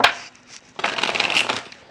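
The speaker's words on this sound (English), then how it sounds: "So let me shuffle the cards." Tarot cards are shuffled by hand in a quick papery riffle and rustle that builds to a busier burst, close and alone without talk.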